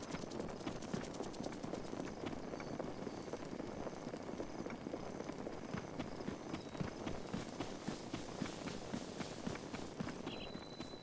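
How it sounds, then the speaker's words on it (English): Horse hooves clip-clopping at a steady run in Zelda: Breath of the Wild, a continuous fast patter of hoofbeats over game ambience and music, with no talk. "That must be the horse that I temporarily commandeered to get over here."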